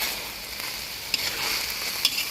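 Mild peppers stir-fried with pork in a shrimp-paste seasoning, giving a steady close sizzle with a couple of sharp utensil knocks against the pan.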